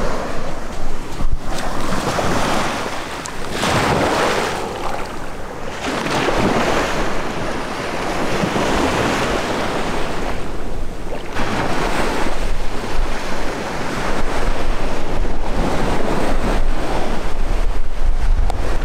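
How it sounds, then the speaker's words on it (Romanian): Atlantic Ocean surf rolls onto a Miami beach in a loud, continuous roar of breaking waves, with heavy wind buffeting the microphone. "vă fac cunoștință aici cu Oceanul Atlantic"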